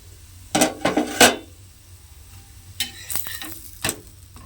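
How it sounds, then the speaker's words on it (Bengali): A vegetable-filled snack fries in a pan and gets turned over, with a few scraping, clattering bursts of a utensil against the pan above a soft, steady sizzle, close by and with no talking. "এইভাবে কিন্তু উল্টে পাল্টে আমি এটা ভেজে নেব"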